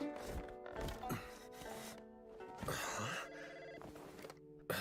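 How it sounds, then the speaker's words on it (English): In the Zenless Zone Zero video game, a telephone rings amid busy, layered game music and effects, the ring fairly loud and continuous over the shifting soundtrack with no speech. "Is he actually getting a phone call?"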